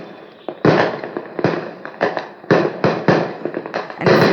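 Firework sound effect played through a smart speaker: a rapid series of sharp crackling bangs and pops at uneven intervals, loud and close, with no talking.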